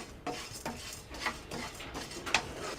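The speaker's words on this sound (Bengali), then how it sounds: "দিয়ে দেবো ওটসটা, দিয়ে দেবো চালটা। এইগুলোকে একটুখানি হালকা আমি জাস্ট ভেজে নেব।" Oats and rice being lightly dry-roasted in a pan give soft intermittent scrapes and taps of a utensil against metal, quiet and spaced out, with no talking.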